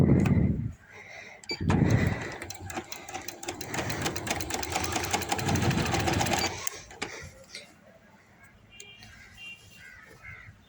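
A sewing machine stitches a baby boy's hoodie in a rapid, close mechanical run lasting several seconds, preceded by a couple of short thumps and followed by quieter handling noises.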